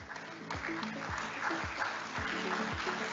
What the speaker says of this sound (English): Please give a round of applause to them.